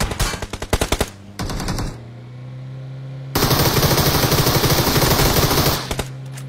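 Automatic gunfire in a solo-versus-squad shooter game: rapid rattling bursts up front, a short pause, then a long, loud sustained spray of fire before it cuts off, close and dominant.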